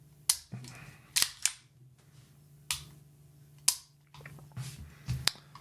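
Trigger clicks of a Staccato 2011 CS pistol with a 4.5-pound trigger: about six to eight sharp, close mechanical snaps, some paired in quick succession, separated by quiet gaps.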